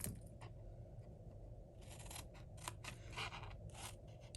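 Scissors cutting through paper for a lidded gift box, a series of short crisp snips and slicing strokes close by, fairly quiet, with no talking.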